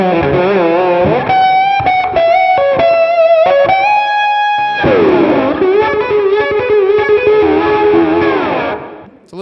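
An electric guitar through overdrive and a King Tone fuzz plays sustained, heavily distorted fuzz notes and bends drenched in reverb, loud and close, then fades out.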